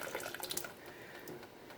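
Water streams and drips off a canning jar of homemade cranberry sauce as it is lifted out of a hot water bath, with a splashy burst of runoff followed by quieter trickling.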